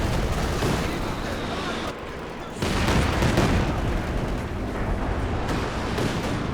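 Artillery barrages in Company of Heroes 2 rumble as dense, continuous booms and crackling blasts, a loud wall of bombardment that briefly drops away and then resumes heavily.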